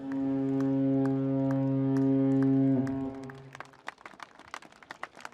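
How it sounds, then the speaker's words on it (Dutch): The ferry Willem de Vlaming of the Doeksen line sounds a long, deep horn blast at a public farewell, loud and steady for about three seconds, then crowd clapping follows. "De boot toeterde"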